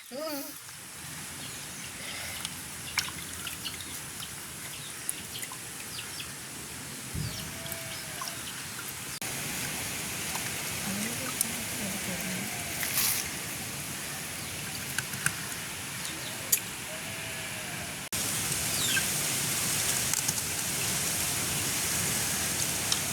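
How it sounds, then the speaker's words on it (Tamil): Cut squid is washed in water outdoors in a village setting, giving a continuous splashing, trickling wash with small sharp drips and clatters and birds faintly in the background. "வெட்டின எல்லா கணவாயும் கழுவி எடுப்போம்"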